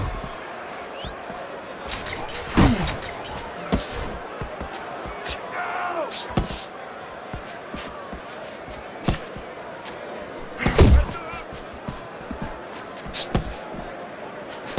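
Punches land in the boxing video game Fight Night Champion, a Gervonta Davis versus Shakur Stevenson bout, as scattered sharp thuds and slaps with a few heavier impacts, all under ongoing commentary and faint crowd noise.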